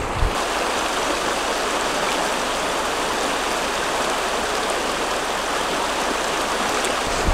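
Close, constant roar of cold water in a sizable mountain stream near Kranjska Gora, Slovenia, even and unbroken throughout with no one speaking.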